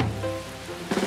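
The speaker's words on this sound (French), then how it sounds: "Sous la pluie." Steady rain falls on a surface outdoors during a long walk with three young girls, a dense even patter with a slightly louder burst near the end and no talking.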